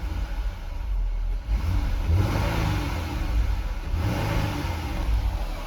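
A 2026 Dodge Durango GT engine revs repeatedly up toward its rev limiter near 3,500 RPM, close and loud, with rising surges and brief dips between pulls and no talking.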